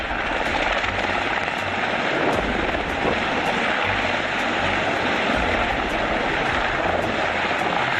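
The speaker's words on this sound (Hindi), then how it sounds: "ऊंचे पहाड़ के किनारे पर फंसे व्यक्ति को हेलीकॉप्टर से बचाकर निकाल ले जाना।" A rescue helicopter flies near the edge of a high mountain, its rotor and engine roaring loud and continuous with a rapid, steady chop throughout.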